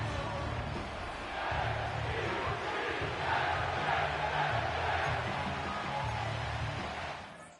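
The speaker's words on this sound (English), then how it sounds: "The crowd is definitely ready." Stadium crowd in an EA Sports American football video game, a continuous dense roar of fans that swells slightly partway through and holds steady before cutting off at the end.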